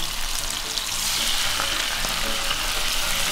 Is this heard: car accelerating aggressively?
no